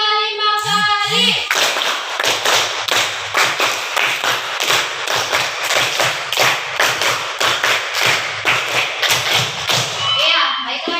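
Children clap a quick series of sharp, rhythmic claps close by in a classroom lesson, with voices over them, between stretches of talk.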